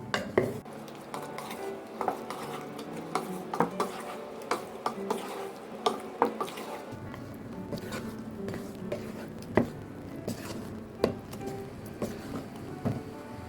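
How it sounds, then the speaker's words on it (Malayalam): A spoon clinks and scrapes against a pan while chicken mayonnaise curry with sprinkled coriander leaves gets mixed, sounding as a close, irregular series of metallic taps and scrapes with no talk. "ഇനി കുറച്ച് ഒരു ടേബിൾ സ്പൂണോളം മല്ലിയിലയും കൂടി വിതറി കൊടുത്തതിന് ശേഷം നമുക്ക് നല്ലതുപോലെ മിക്സ് ചെയ്തെടുക്കാം"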